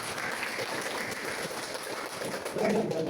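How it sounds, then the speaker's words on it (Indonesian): Students in a school classroom applaud a presenting group, a steady wash of many hands clapping at moderate distance, with a slight swell near the end. "berikan tepuk tangan pada kelompok itu"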